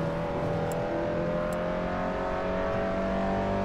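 A racing car engine in a video game holds a steady, loud revving drone with a constant whirring tone and no pauses.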